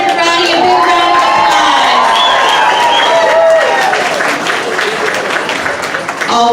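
A crowd at a progressive awards event claps and cheers for Senator Ratti, loud sustained applause with voices and shouts mixed throughout.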